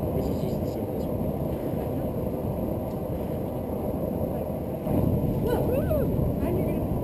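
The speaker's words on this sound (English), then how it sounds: "It's a jet engine, except without the bits at the end." A simple homemade jet engine with no exhaust nozzle roars continuously and steadily, surging louder about two-thirds through, with a faint whine on top.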